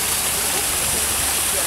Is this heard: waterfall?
yes